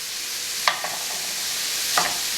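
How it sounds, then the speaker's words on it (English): Scrambled tofu with tomato is stir-fried in a pan, with a steady hiss of sizzling and two brief scraping stirs of the spatula, no one speaking. "Give it a quick little stir fry."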